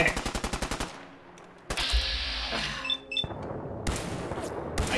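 Rapid automatic gunfire in Fallout 4, a fast burst of close shots opening the clip, followed by scattered blasts, impacts and game noise with more bursts later.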